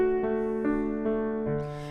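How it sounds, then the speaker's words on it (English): A keyboard plays a little arpeggio: about five evenly spaced, sustained piano-like notes ringing into each other. They are close and clear, with no voices. "one of which is doing this little arpeggio that sounds like this"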